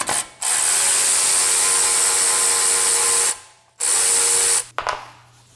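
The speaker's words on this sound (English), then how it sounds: "we have to remove this bolt right here" A power ratchet whirs loudly on a brake caliper bolt of a Ford F150 Raptor. It runs in two long bursts separated by a short gap, then gives a brief final spin, with no talking.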